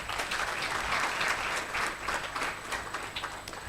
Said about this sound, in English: please, a round of applause to our panelists.